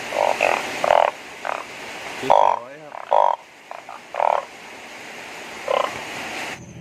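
Frogs croak after rain at night in a loud, close chorus of repeated bursts, with one rapid warbling call in the middle; a brief spoken word is barely heard.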